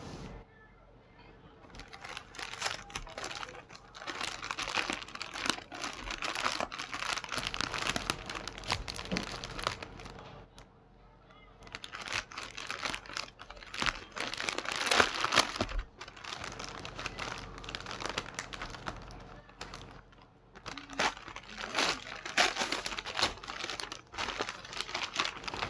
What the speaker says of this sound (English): I don't want to tear the paper.